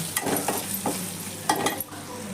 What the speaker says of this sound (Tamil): இப்போது மசாலா நல்லா வதங்கிருச்சு.